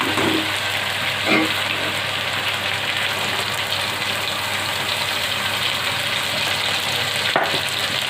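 Chicken frying in a pan gives off a dense, even sizzle that holds steady and fairly loud throughout, with a couple of faint clinks and no talking.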